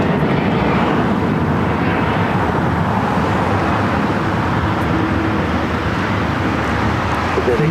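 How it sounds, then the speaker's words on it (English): A Boeing 777-200ER airliner arrives at LAX on a flight from Newark, its engines a loud, steady, broadband roar that holds evenly from start to finish. "This one is flight 669 coming in from Newark on a 777-200ER"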